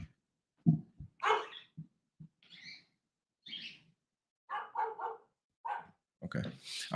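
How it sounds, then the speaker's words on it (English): Several loud dog barks come in irregular bursts, some doubled, with brief pauses between them and nothing else much in the background. "I'm just trying to get that dog to stop barking."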